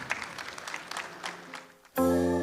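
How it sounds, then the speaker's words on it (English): Scattered audience applause for a panel at an arts launch event, a few distinct claps fading out, then cut off abruptly by a loud sustained musical tone. "A round of applause to the panel."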